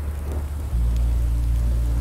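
Steady rain in Minecraft Story Mode, a continuous hiss with a heavy low rumble that swells and thickens partway through, with no voices.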